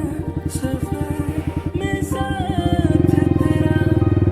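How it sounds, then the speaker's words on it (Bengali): Motorcycle engine revving hard and building steadily during a wheelie on a bypass road, a close, loud, pulsing rumble that rises in pitch and intensity toward the end, with no talk. "চলো ভাই আবার একটা তোমাদেরকে হুইলি দেখাচ্ছি"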